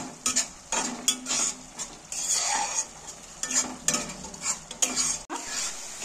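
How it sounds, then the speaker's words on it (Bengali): Spiced masala mixed with yogurt being stirred and sautéed in a pan while cooking egg bhapa, with repeated scraping strokes of a spatula over a steady, close sizzle, no voices. "আবার আমি এইটাকে আরেকটু কষিয়ে নেব।"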